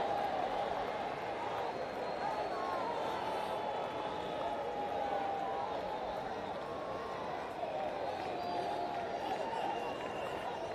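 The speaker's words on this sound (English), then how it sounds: "The crowd is cheering for him." A large football crowd at a Santosh Trophy final between Kerala and Bengal cheers steadily for a player lining up a free kick, a broad sustained roar that stays even and fairly distant throughout.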